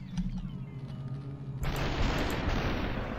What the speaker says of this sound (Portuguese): A metralhadora dispara 3 rajadas.